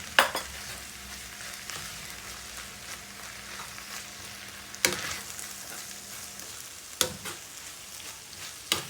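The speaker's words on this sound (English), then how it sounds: "So I'm just going to quickly mix it." Thickened mince pie filling being mixed in a pan, giving a soft continuous bubbling sizzle with a few sharper scrapes and knocks of the spoon, close and quiet, with no talking.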